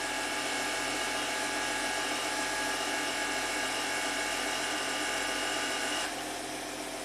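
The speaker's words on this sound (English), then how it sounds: "Compressor is getting pretty warm. Let's see if it can go all the way." The air suspension compressor on a 2014 Audi Q7 TDI running warm, a steady, loud mechanical whir with a rapid ratcheting texture that drops in pitch and level near the end.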